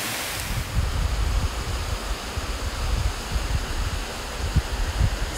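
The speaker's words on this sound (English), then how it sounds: "Take a look at the waterfall." Steady, loud rushing roar of the Cosumnes River waterfall in Northern California, a continuous broadband wash of falling water close by with no voices.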